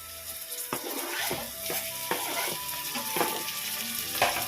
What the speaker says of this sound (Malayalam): അപ്പോൾ സവോള ഒരുവിധം വഴണ്ട് വന്നിട്ടുണ്ട്. നമുക്കിനി തക്കാളി ചേർത്ത് വെക്കാം.